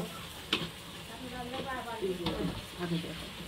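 Spice masala for cluster fig curry is stir-fried in a pan, giving a quiet sizzle with occasional scrapes of a spatula, while a faint voice murmurs in the background.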